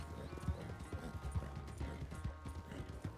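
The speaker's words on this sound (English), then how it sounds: "Put more steroids in my horse." Horse galloping in the video game GTA, a quick rhythmic clip-clop of hoofbeats over a low rumble, steady and fairly faint throughout.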